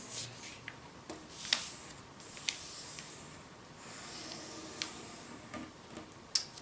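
Origami paper being folded, heard as soft close crinkles, rustles and small crisp ticks of creasing over a quiet background.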